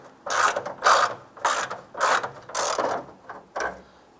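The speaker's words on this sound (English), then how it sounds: "I'm going to use our 3/8 socket to go ahead and loosen this bolt on this side here." A 3/8 socket ratchet loosens a hood latch bolt on a 2002-2008 Dodge Ram, producing about seven loud, close rasping clicking bursts in a steady back-and-forth rhythm, alone without talk.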